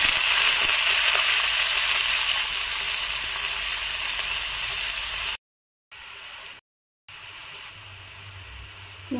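Onions fry in hot oil over a tempering of garam masala and cumin, giving a loud, dense, continuous sizzle that drops out twice into brief silences before resuming more quietly.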